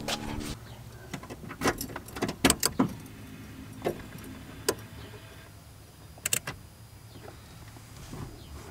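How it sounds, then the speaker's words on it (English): A car is switched on while testing whether a headlight circuit blows a fuse: scattered metallic key jangles and sharp clicks come in quick bursts, close but fairly quiet, with brief gaps of near silence. "So I'll flip the car on quick and see if it blows the fuse"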